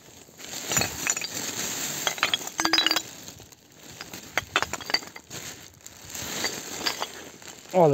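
Old glass bottles and jars from the communist era clink and knock together as they are gathered into a sack in a forest, with repeated sharp chinks in irregular bursts close to the microphone.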